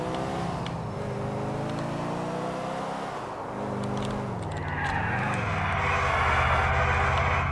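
Car engine revving and sliding through a drift in the video game GTA IV, steady harmonic engine drone rising and dipping with a hissing tire-skid wash building toward the end, loud and continuous without talk.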